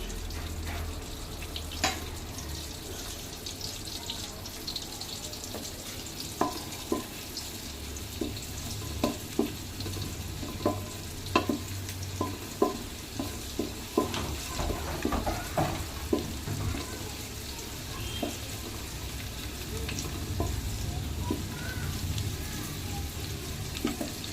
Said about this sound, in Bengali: রসুন কুচিগুলো একটু ভাজা ভাজা হবে